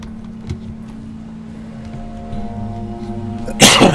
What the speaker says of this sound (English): So you all had to hear me sneeze.